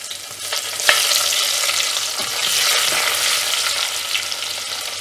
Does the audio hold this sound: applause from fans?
no